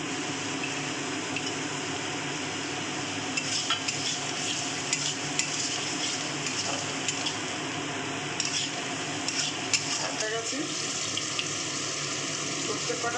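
Cardamom and coconut stir-fry in a pan for luchi and cholar dal, giving a steady soft sizzle with scraping stir strokes throughout and a brighter hiss rising near the end, close and moderately loud.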